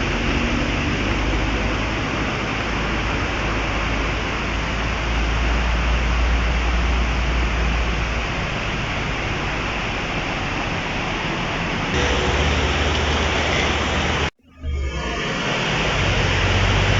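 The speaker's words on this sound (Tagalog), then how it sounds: "Naririnig ko na yung lagas-las ng tubig dyan sa sapa." Steady broadband rush of stream water flowing near Sprite Falls, a continuous close wash of running water with a brief dropout near the end.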